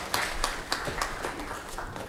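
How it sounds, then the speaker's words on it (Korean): Applause from a congregation during a Wednesday church service, a steady patter of clapping hands with a few sharper claps standing out over roughly two seconds. "영광의 박수 드리겠습니다"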